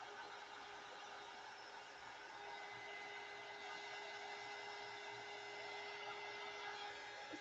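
A handheld hair dryer blows in a home crafting setting, a faint steady whirring hiss with a thin constant hum that runs unchanged throughout, alone.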